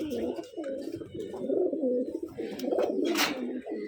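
Pigeons coo in a rhythmic, overlapping series inside an enclosed indoor loft, the murmuring calls close and steady with a brief brighter flutter near the end.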